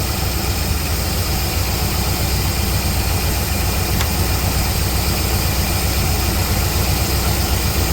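A 1969 Chevelle V8, a barn find fresh from a carburetor rebuild, idles steadily and loudly up close, a continuous low rumbling drone with no break across the whole stretch.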